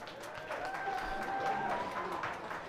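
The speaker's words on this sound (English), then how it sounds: "Can we please give a round of applause?" A crowd at a workers' day celebration claps for an honoured guest, fairly quiet applause heard from a distance with a faint tonal hum running through it and murmuring voices mixed in.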